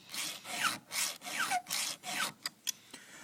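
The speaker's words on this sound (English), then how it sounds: "So I'm angling down this way now to sharpen." A round file rasps across a chainsaw chain tooth in about six steady strokes, each a gritty burst with brief pauses between, close and clear, followed by a few sharp clicks at the end.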